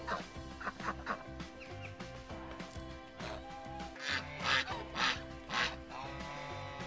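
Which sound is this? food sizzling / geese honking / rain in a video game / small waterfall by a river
geese honking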